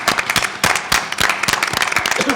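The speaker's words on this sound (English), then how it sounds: "Let's give these seniors one more round of applause" Audience applause for graduating seniors at a school board meeting, a dense patter of many hands clapping steadily at close range.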